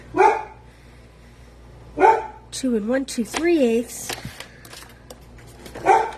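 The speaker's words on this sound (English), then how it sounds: "I apologize for my barking dog." A dog barks a few times, then gives a short series of whining, wavering yelps, while someone talks nearby.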